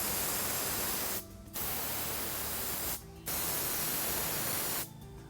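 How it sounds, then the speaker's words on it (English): Adhesive sprayed onto laminate in a woodworking shop, three long hissing bursts of spray broken by brief pauses, close and steady. "now we're applying the same adhesive to the laminate"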